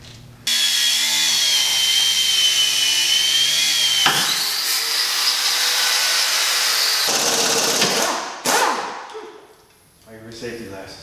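A 6-inch angle grinder with an offset cutoff wheel cuts through a rear leaf spring on a GMC truck, a loud steady high whine running several seconds, then a pause and a shorter burst.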